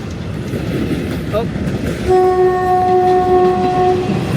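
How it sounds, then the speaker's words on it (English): A train to Bangkok rumbles past in Lopburi, Thailand, then a long, loud horn blasts steadily over it; a person briefly exclaims before the horn. "I believe that's the train to Bangkok."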